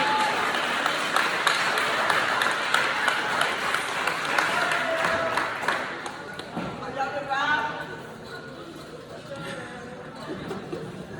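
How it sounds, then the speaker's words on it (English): Audience at a Buckeye Middle School program ceremony claps for an honored student, the applause strong at first then fading after about six seconds into scattered claps, chatter and a little laughter. "Can y'all clap it up for Marvin Robinson?"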